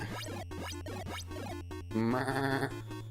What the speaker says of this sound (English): My chair sounds like a goat.